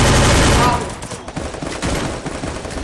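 Heavy gunfire in the Free Fire mobile shooter game: a loud, dense burst of shots opens the clip, then fades into quieter scattered shots and game noise.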